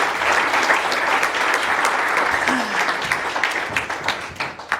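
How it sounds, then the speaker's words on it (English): Applause from a conference audience at a summit fills the room, a steady wash of many hands clapping at close range that runs without a break for about five seconds, with faint voices mixed in. "can we get another round of applause for my beautiful friend Tommy?"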